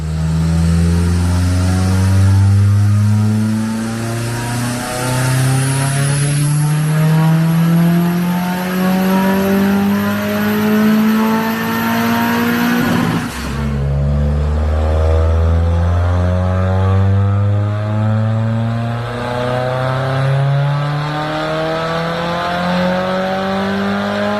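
A Mazda Miata fitted with a swapped Ford EcoBoost turbo engine revs on a dyno, rising loud through the gears in two long sweeping pulls with a shift or lift midway, continuous and close with no voices.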